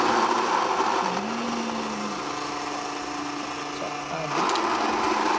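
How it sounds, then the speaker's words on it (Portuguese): An electric coffee grinder grinds a 22-gram dose of coffee beans, a steady close motor whir whose pitch dips and shifts partway through before rising again near the end. "E ele já vai moer 22 gramas quando eu der o start."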